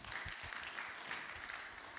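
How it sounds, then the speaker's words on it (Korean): A church congregation claps together after a closing prayer, a broad steady wash of hand claps with fuzzy low thumps, filling the room evenly and continuing throughout without talk. "우리 잘 이겼다고 박수 한번 해주세요."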